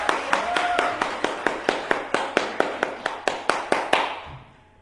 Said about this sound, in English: Let us clap hands for her.